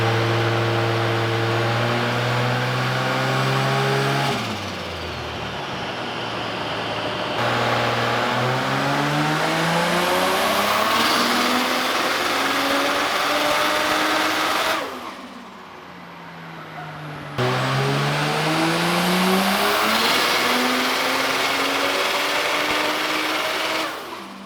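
A Nissan R32 Skyline with a 1.5JZ engine revs hard on a dyno, loud and close, rising and falling in repeated sweeping pulls with brief dips between runs.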